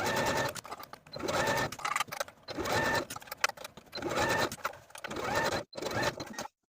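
A sewing machine stitches a sleeve into the armhole of a tee shirt in several bursts of rapid, close mechanical whirring, separated by short pauses.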